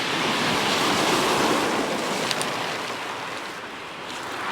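Wind gusting along the shore at Pevensey Bay with surf washing in, a steady broadband roar close to the microphone, easing slightly toward the end with no voices.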